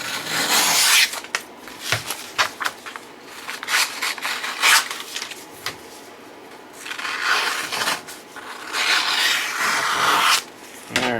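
Scissors snip and rasp through a magnetic vinyl sign during trimming, a close, scratchy series of cuts and rubs running steadily with short breaks.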